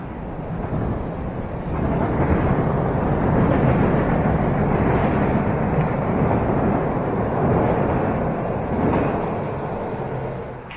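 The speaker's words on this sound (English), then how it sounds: "Oh, here comes the train." A train passes in Philadelphia, a loud, steady rumble and rattle of cars rolling by that rises quickly, holds for several seconds and eases off toward the end, with no talking.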